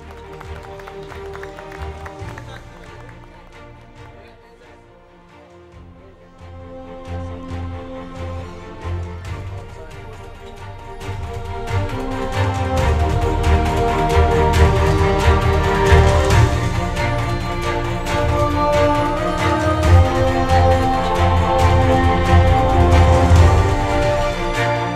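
Audience applause at a televised award ceremony on stage as the winners of the year's daytime drama award are sent off, a broad wash of clapping with music underneath that swells in the second half and stays loud.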